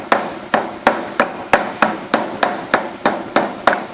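A metalworking hammer knocks over the edge of a sheet metal panel in a fabrication shop, about a dozen sharp ringing blows at a steady, even rhythm, close and clear with no talk.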